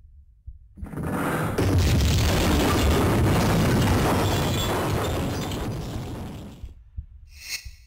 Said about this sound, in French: on a juste ouvert une trappe et que le sol s'est effondré du niveau du dessus vers le niveau du bas